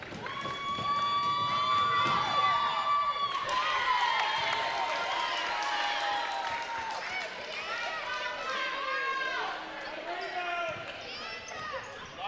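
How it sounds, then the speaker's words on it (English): A crowd at a girls' high school basketball game cheers and shouts loudly during free throws, with whistling, children's yells and sneaker squeaks rising and falling across the gym, and an announcer speaking over it. "Crowd making a lot of noise"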